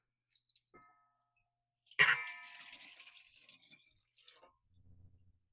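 Water is poured into bread dough ingredients with yeast and salt in a bowl, a short splashing pour after faint clinks, then quiet small knocks, all fairly soft and close.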